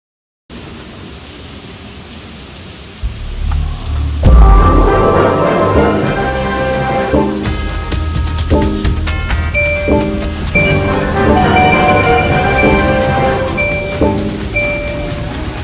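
Heavy rain falls outdoors in cold weather as a dense, loud, continuous downpour that starts abruptly and builds, with pattering drops and a deep rumbling burst early on.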